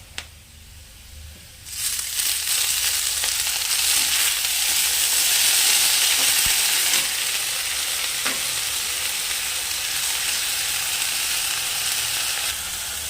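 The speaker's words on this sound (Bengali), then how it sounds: "পেঁয়াজ রসুনটা লাল কালার হয়ে গেছে, এখন আমি এই সজনা শাকটা দিয়ে দেবো।" Onion and garlic, already browned, frying in a pan as drumstick leaves go in: a quiet start, then a loud, steady sizzle swells up with soft stirring scrapes and stays strong to the end.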